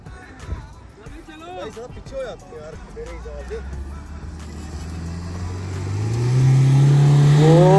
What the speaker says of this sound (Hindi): अभी देखते हैं स्कॉर्पियो कितना ऊपर तक आएगी तो अभी गाड़ी आने वाली है